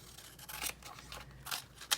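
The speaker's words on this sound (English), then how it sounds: "For this guy, I actually even got my scissors out." Scissors cutting paper for an art journal: several crisp snips spaced unevenly, close and fairly quiet, ending with a sharper final cut, with no voices.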